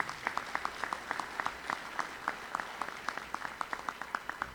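Quiet, distant applause at a college inauguration ceremony, with individual claps standing out in an irregular rhythm over a soft wash of crowd clapping.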